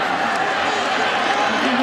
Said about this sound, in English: There's some life in this crowd now.